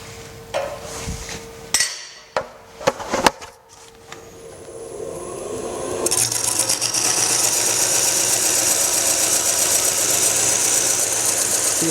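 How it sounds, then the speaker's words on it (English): A bowl coring tool cuts into a wood blank spinning on a lathe, scattered knocks and scrapes at first, then a steady loud grinding cut with a high whine that continues to the end. "See how much better that's cutting now with that extra support under the cutter?"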